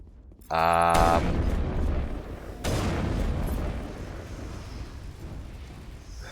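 A sniper rifle in Mass Effect fires with a heavy booming report, followed by a second blast moments later, each trailing into a long rumbling decay.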